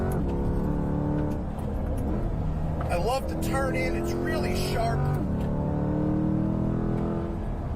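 A car engine hums and revs steadily under someone talking over it, rising in pitch through a sharp turn-in after braking through the S-bends, with the exhaust no longer routed beneath the cabin.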